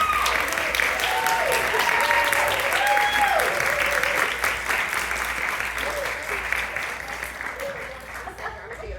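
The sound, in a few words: audience applause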